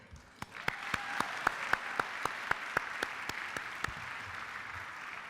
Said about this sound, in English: I cannot begin this evening without giving another round of applause to Jose Soltero